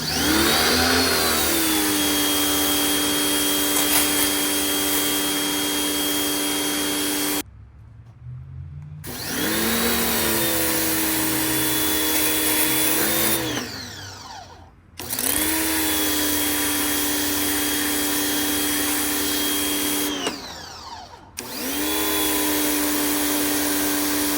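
A cheap electric pressure washer running with air still in the system, its motor whining loudly and wavering. It cuts out and restarts in three bursts separated by short silent gaps.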